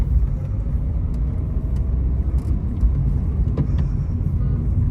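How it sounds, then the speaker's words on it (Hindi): Car approaching from behind on a mountain road near Dharamshala, a steady low road rumble and engine drone filling the whole stretch, close and continuous with no talk. "पीछे से गाड़ी आ रहा है यार"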